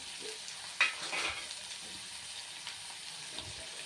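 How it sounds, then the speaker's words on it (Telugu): Gongura curry frying in oil as a little more oil goes in, a continuous close sizzle with a brief splash-like burst near the start and light stirring, no voices. "కొంచెం ఆయిల్ వేస్తున్నాను కొద్దిగా"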